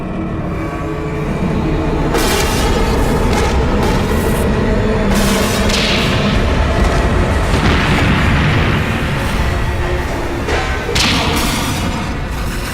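An explosion sound effect for a nuclear disaster scene: a loud, sustained roaring rumble with repeated deep booms and crackling bursts running for several seconds, with no voices.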